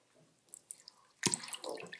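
Water runs and drips close by. A few soft, scattered drips give way to a louder burst of splashing, sink-like running water in the second half, with no voices.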